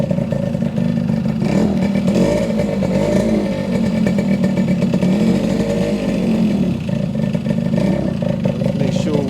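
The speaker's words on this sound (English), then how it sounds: "Turn the key on, turn the fuel on, and give it a kick." A 1974 Yamaha RD60 motorcycle runs close by, its small engine holding a steady, buzzing idle with a rattly two-stroke clatter that barely changes throughout.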